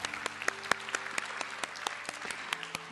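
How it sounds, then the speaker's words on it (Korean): A congregation at a year-end Sunday worship service applauds steadily, with dense clapping and a few sharp, louder claps standing out near the listener. "지난 한 해 동안 우리와 함께 하신 하나님께 감사와 영광의 박수 올려드리겠습니다."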